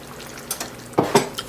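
Butter goes into a creamy sauce in a pan. A quiet background is broken by a few brief scraping and clinking hits of a utensil against the pan, close and moderately loud, with no talking.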